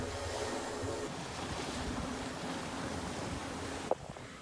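Waves rush and slosh around a boat being towed, under steady wind noise, with a single sharp knock near the end.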